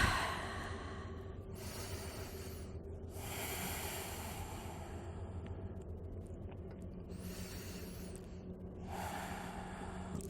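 Slow, deep breathing during a gentle standing yoga flow, with four audible breaths about two seconds apart against quiet room tone.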